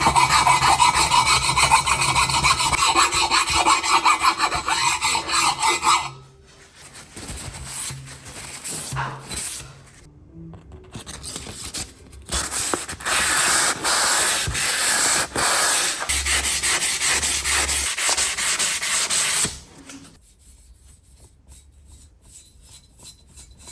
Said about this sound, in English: So I'm going to try and buff this with a steel brush